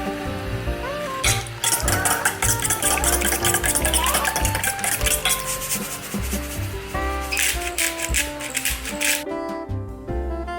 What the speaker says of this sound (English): Really like mixing my eggs with a spatula